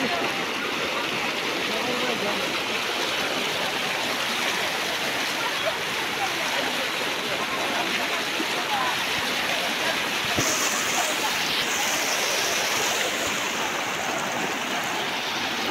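Fast-flowing floodwater during the Hailakandi flood of 2025, a dense continuous rushing roar, loud and steady for the whole stretch with a brief faint whistle-like tone partway through.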